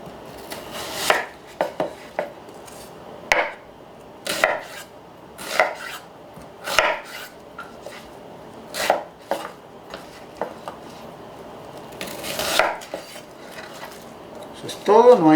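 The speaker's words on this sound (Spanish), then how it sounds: "Nuestro cilantro yo no lo voy a cortar mucho porque esto va a la licuadora" A knife chops fresh cilantro on a cutting board for Puerto Rican sofrito, in irregular bursts of quick, crisp, close strikes separated by pauses, with some kitchen clatter.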